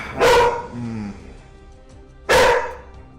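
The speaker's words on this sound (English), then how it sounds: "You got Zoe to bark. Hey, dog, that's too loud for the stream." A dog gives two loud, sharp barks about two seconds apart, close to the microphone, with a short low whine between them.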